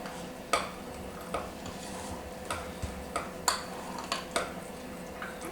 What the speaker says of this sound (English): It'll look like a lot of liquid at first, but it'll start to thicken up as you stir.